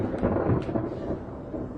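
Thunder booms and rumbles through a rainstorm, a deep rolling roar that fills the whole stretch at steady, heavy loudness with no voices.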